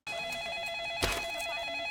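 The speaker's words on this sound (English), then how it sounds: "And then the phone rings." A telephone rings steadily in a scene from the 2001 film Training Day, a continuous bright electronic trill that runs through the whole moment at an even level, with a brief louder bump partway through.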